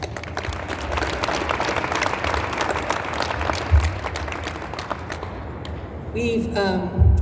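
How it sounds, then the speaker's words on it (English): A crowd at a hunger-relief press conference claps for a food-industry partner, a sustained round of applause with scattered thumps, fading near the end as a voice begins speaking. "Let's give them a round of applause"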